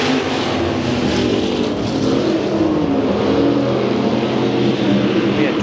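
Race cars roar around the Bakersfield Speedway oval as the field is brought to the green for a 20-lap main event, a dense, continuous engine drone that stays loud and steady throughout, with no talk over it.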